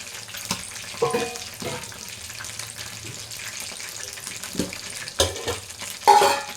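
Chicken 65 pieces frying in hot oil until crisp give a continuous low sizzle, broken by several louder stirring and scraping knocks spaced through the clip.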